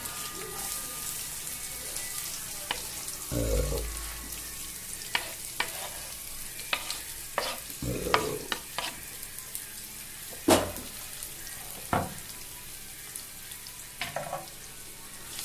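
Small-cut onions for a homemade mushroom gravy sauté in a pan with a soft continuous sizzle, while a spatula repeatedly knocks and scrapes against the pan in irregular clicks.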